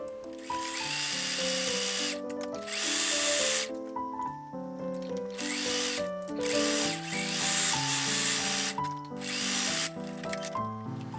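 A sewing machine stitches the crotch seam of children's pants in three sustained runs with short pauses between, its whirring partly masked by louder background music.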